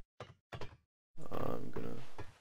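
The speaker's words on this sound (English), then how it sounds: "I'm gonna get through the door" A door in the Planet Calypso video game opens with two short mechanical clunks, then a longer, steady whirring slide that fades out, all fairly close with no talking.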